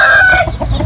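A rooster at the Thọ Huỳnh chicken farm crows loud and close, one short, strong call that fades out quickly.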